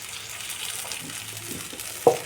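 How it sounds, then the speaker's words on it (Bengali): Bottle gourd leaves fry in oil on low heat for a spicy chorchori, a soft, steady sizzle and hiss, with a couple of sharp clinks of a utensil near the end. "এবার এটা আমি আঁচ কমিয়ে ভেজে নিচ্ছি"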